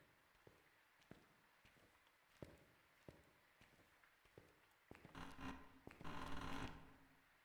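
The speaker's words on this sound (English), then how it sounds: "And I think I can hear its footsteps." Slow, regular footsteps from a hunting ghost in the horror game Phasmophobia thud faintly at even intervals, followed by a louder burst of rustling, scraping noise toward the end.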